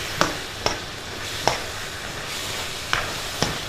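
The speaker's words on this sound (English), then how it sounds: "We're going to add in some nice rice noodles to that. So in they go." Pre-cooked rice noodles are stirred through a hot pan, giving a steady sizzle and frying hiss punctuated by several sharp scraping knocks of the utensil at irregular intervals, close and moderately loud, with no talk.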